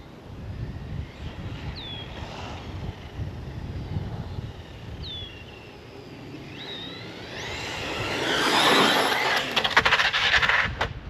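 A model aircraft engine on a fast Terminator plane winds up to full throttle in the distance. Its thin whine rises from under steady wind noise and swells into a loud rushing surge near the end.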